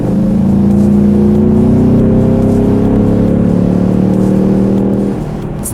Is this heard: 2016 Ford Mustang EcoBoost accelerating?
yes